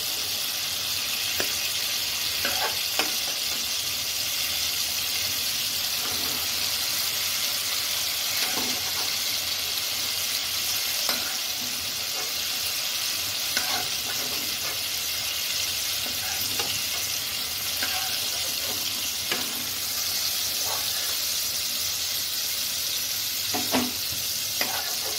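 Katla fish and ridge gourd fry in hot oil in a pan, a continuous close crackling sizzle punctuated by frequent scraping stirs and clinks, with no talking throughout.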